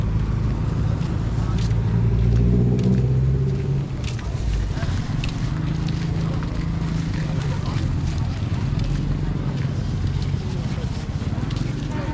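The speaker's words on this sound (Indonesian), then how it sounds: "ini adalah suasana parkir di depan Pasar Jaar" Busy parking area in front of the weekly Jaar village market in a Dayak Maanyan village, with steady loud engine rumble, passing vehicles and general crowd bustle, and voices talking through it.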